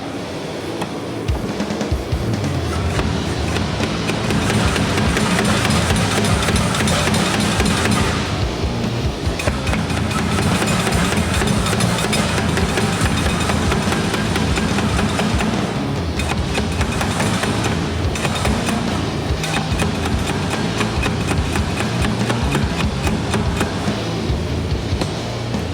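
A steam hammer forges a hot bar down to 1-inch square, with loud continuous pounding and machine rumble that holds steady throughout, broken only by brief dips and no voices.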